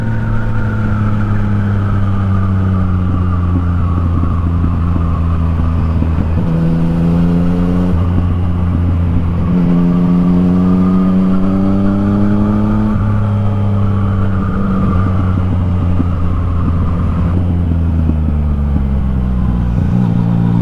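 Yamaha MT-09 motorcycle with an Akrapovic exhaust, loud and close, revving and accelerating through a run of gear changes with rising and falling engine pitch, continuous for about twenty seconds.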